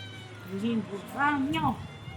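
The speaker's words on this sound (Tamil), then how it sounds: "நல்ல பூனை பால் வேணுமா" A house cat gives two or three plaintive meows close by while a person talks nearby.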